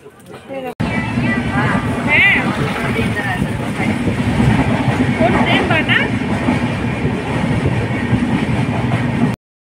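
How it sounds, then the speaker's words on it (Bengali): A train pulling away from Bagdogra station, heard as a loud, steady rumble of wheels and carriage noise that runs unbroken from start to finish, with faint voices murmuring in the background. "এই বাগডোগরা স্টেশন থেকে আমি ট্রেনে করে বাড়ি যাচ্ছি"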